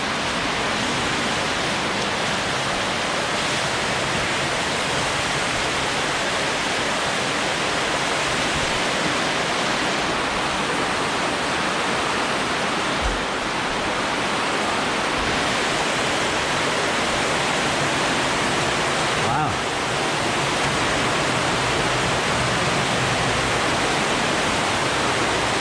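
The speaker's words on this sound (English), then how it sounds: "That's definitely a waterfall." Continuous loud rush of a waterfall on a creek by a hydro dam, a broad unbroken roar of falling water that stays close and even throughout, with only slight shifts in texture.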